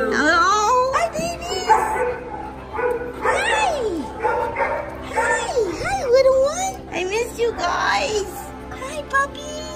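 Two pet dogs whimpering, yipping and yelping excitedly in rapid, rising and falling cries, close and loud, mixed with a person's high, excited talking.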